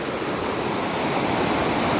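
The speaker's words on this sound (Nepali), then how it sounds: "बाढी यत्रो एकछिन पानी पर्यो बाढी यत्रो आउँछ।" Floodwater surges down a stream in Kathmandu after rain, making a steady, even rushing roar that sounds fairly distant and continues without a break.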